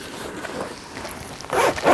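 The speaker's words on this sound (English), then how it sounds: "And this zipper goes almost the whole way to the bottom of the bag." A zipper on the main compartment of a Vori gaming backpack is pulled open in one quick, close, rasping stroke near the end, after a brief quiet rustle.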